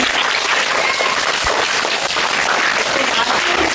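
An audience claps at a Teacher's Day celebration, a broad, loud, steady wash of clapping filling the whole stretch with no pause.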